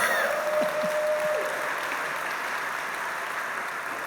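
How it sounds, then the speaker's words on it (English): A crowd at an LGBT gala dinner gives a round of applause, a steady, full roomful of clapping that holds evenly for several seconds. "yeah, that's a round of applause."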